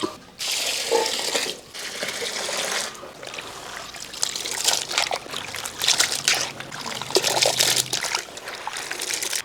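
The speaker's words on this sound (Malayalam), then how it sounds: "ഇനി ഇത് നമുക്ക് നന്നായിട്ട് ഒന്നുകൂടെ കഴുകിക്കൊണ്ട് വരാം." Cauliflower being washed under a running kitchen tap, water splashing and trickling steadily into a sink for several seconds, close and fairly loud, with brief breaks and handling splashes.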